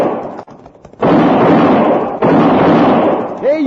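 Two loud, booming gunshots ring out, one about a second apart from the other, each with a long rumbling tail, in a 1958 Western radio drama with frontier riders.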